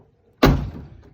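A car door on a 1969 Ford Falcon XW sedan shuts with a single solid, close thunk that fades quickly in a quiet space.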